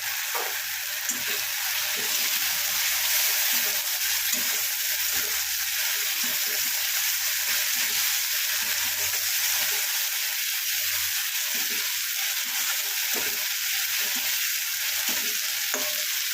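Black chickpea curry stir-fried in a pan, a loud continuous sizzle with a rhythmic pattern of spoon scrapes and stirring strokes close by.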